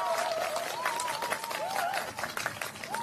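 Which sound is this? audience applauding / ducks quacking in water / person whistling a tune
audience applauding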